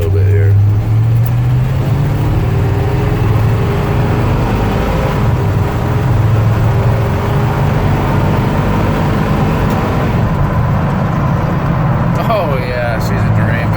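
A 1974 Chevy K10 truck with 61k original miles, revving on a cold start: a loud, close V8 roar that rises and falls in pitch over several blips, with someone talking over it.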